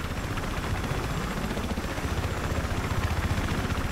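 A steady, rumbling helicopter rotor drone holds through the whole stretch in Battlefield 3 Reality Mod, a fast thudding pulse under broad engine noise, fairly close and constant with no talk.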